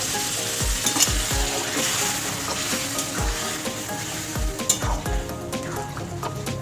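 Dried fish curry with potatoes and mixed vegetables frying in a pan, a steady loud sizzle with repeated sharp scrapes and knocks of a spatula against the pan, no voices.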